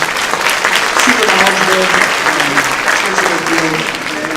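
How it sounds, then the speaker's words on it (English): Loud, dense applause from a high school freshman forum audience, continuous clapping throughout with faint tonal voices or cheers mixed underneath. "I want a big round of applause for all of our presenters"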